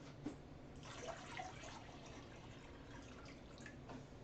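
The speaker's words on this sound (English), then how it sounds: "We're going to add 1 cup of water into each of these containers." Water is poured carefully, a cup at a time, into yarn dyeing containers, giving faint splashes and trickles with a few small drips, quiet and close with no talking.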